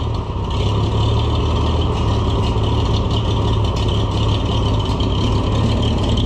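An Oliver tractor engine, an 1800 B series or 1650 needing service, idles roughly and steadily, a loud close rumble with a constant low throb and slight rattle, no talking.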